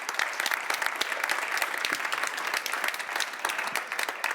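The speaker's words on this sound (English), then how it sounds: "Give a round of applause to Lavine" An audience at a panel discussion applauds for a panelist, dense steady clapping from a sizable crowd for about four seconds, moderately close.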